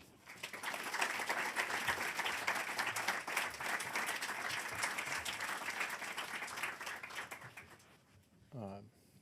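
Audience applause welcomes a keynote speaker to the podium at Princeton, a steady wash of many hands clapping in a hall that holds for about eight seconds, then fades as a voice begins speaking.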